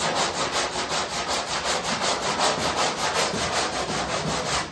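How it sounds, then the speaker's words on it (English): Hand sanding body filler on a 1968 Firebird with 80 grit sandpaper produces steady, rhythmic rasping strokes, close and continuous, with no talking. "Now this is 80 grit, so I'm just using this to get the close shape of this thing."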